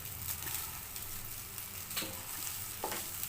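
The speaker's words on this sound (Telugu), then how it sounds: "కొత్తిమీర వేసి ఇలా కలిపేయాలి" A spoon stirs coriander through cooked rice in a hot pan, giving a soft continuous sizzle with a few scraping strokes against the metal, close by and with no talking.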